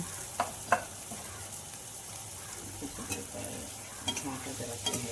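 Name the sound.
pitha dough frying in hot oil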